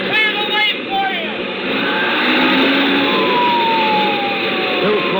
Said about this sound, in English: Sirens screaming, red lights flashing